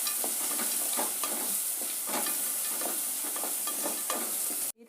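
Onions frying in a pan with turmeric and salt, a steady loud sizzle with regular stirring scrapes, cut off abruptly at the end.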